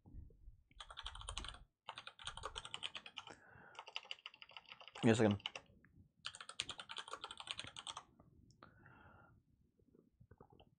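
Bursts of typing on a computer keyboard, close and crisp, in several runs of rapid key clicks with short pauses, while a person talks briefly between bursts.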